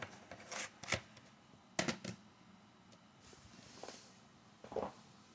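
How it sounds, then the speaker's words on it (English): A shoe makes faint scattered scuffs and creaks, a few short rustling bursts spaced irregularly over a quiet background. "That's my shoe making that noise."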